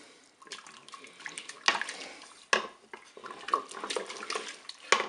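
Crème fraîche being stirred into mussels in a Cookeo pot, with close wet sloshing and scraping punctuated by several sharper clinks of a utensil against the metal pot.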